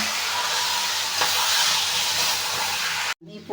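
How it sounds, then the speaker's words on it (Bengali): Soaked rice fries in ghee with bay leaf and whole spices in a steady, loud, close sizzle that cuts off sharply near the end. "ভিজিয়ে রাখা চালটাকে ভালো করে ভেজে নেব।"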